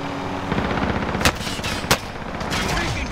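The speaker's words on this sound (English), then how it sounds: "You're taking direct fire." Rapid automatic gunfire crackles through a Call of Duty Warzone match, with continuous bursts, a few louder single shots standing out, and loud dense game ambience throughout.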